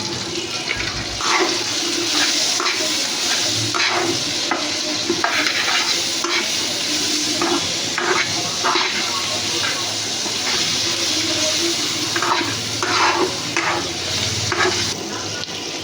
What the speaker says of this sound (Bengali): পেঁয়াজটা আর সবজিটা পুরো ভাজা ভাজা হয়ে এসেছে